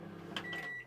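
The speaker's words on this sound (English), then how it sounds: "Behind you have a 800 watt microwave, so you've got to be hooked up for this to work, and it's just 30-second increments." An 800 watt microwave in a motorhome gives a brief, faint click of its dial, followed by a short, thin tone, heard close and alone.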